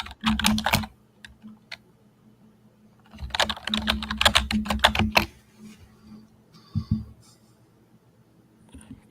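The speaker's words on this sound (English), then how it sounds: "mute your mic because your typing is popping up" Computer keyboard typing comes through an open microphone in quick bursts of clicky keystrokes separated by pauses, with a low hum underneath.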